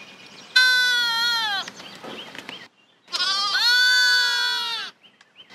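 Goat bleating twice, two long wavering cries with a short gap between them, loud and close with no speech.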